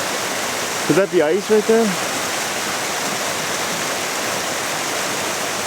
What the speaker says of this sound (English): And you see this waterfall here.